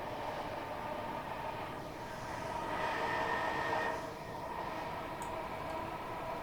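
A Class 455 electric train running on the South West Main Line from Woking to Waterloo in Train Simulator Classic, a continuous rumbling roar of wheels and motors that swells midway, heard from inside, with no talking.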